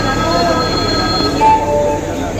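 A train at Khandwa railway station in India, with steady rumbling of rolling stock and a few thin high wheel squeals, heard close over background station chatter.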